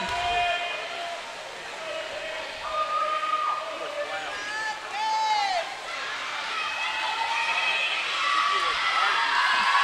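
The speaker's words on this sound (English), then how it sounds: "lots of cheering going on" Spectators cheer and shout at a girls' swim and dive meet in an echoing pool hall, with a sustained crowd roar and scattered whistles rising and falling behind a commentator's voice.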